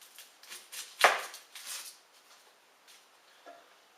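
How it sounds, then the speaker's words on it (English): Knife chopping the head off an onion during curry paste prep, heard as one sharp, loud cut among a few lighter taps and knocks on a board, fairly close and with no voices. "The onion we chop the head off."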